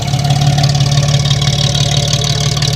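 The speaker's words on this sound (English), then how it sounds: "listen to that wonderful idle" A 1960 Jensen 541R classic British GT idles steadily on an estate, its engine giving a deep, even, rhythmic burble close by with no talk over it.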